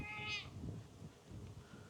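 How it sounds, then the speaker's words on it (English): Goats and sheep on an aloe vera plantation in Curacao: one short, clear bleat rings out near the start, followed by a low, quiet background rustle with no talk. "Goat, sheep, there's chicken here."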